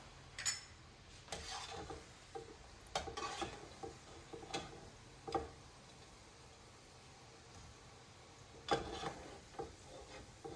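Methi muthiya dumplings fry in hot oil with a steady faint sizzle, broken by several sharp clinks and scrapes of a metal spoon against the pan as the batch is stirred.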